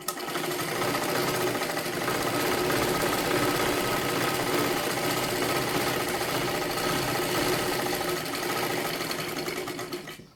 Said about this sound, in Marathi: आता इकडच्या बाजूला सुद्धा अशाच पद्धतीने पूर्ण आपल्याला शिलाई करून घ्यायचं आहे.